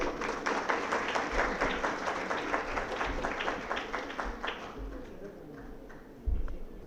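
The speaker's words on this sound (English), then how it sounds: "Can we please welcome Mr. Imtiaz Lalji with a round of applause" An audience at an annual retreat gives a round of applause to welcome a speaker, with dense clapping that gradually thins and fades toward the end.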